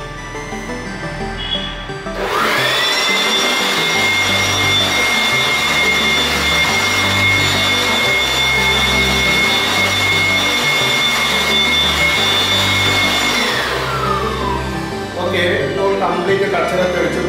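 A DeWalt blower run at speed 4 to blast dirt from a window, spinning up to a loud, steady high whine that holds for about eleven seconds, then winds down, with talk underneath.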